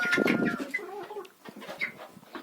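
Several chickens, some red hens, cluck and croon close by in a busy, overlapping chatter on a village farm, with short squawks mixed in and no talking.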